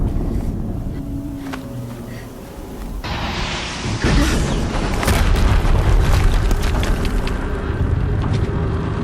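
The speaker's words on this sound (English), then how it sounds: "Another explosion." Explosions in the video game Horizon Zero Dawn: a loud boom bursts in around three seconds and a second, heavier blast at four seconds, both followed by sustained rumbling, windy roar that stays loud to the end.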